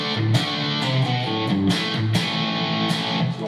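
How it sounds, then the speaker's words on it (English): Crunchy electric guitar riff through a Marshall Code amp set to its 1936V 2x12 cabinet with vintage speakers, staccato overdriven chords repeating for a few seconds, loud with no voices. "1936V, so this is our 2x12 with the vintage speakers in it."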